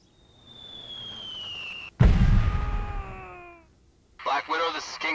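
A loud, close blast from an artillery strike in the video game Delta Force 2 booms out, and a long rumbling, ringing tail fades over about two seconds. A steady tone comes before it, and a voice speaks briefly afterward.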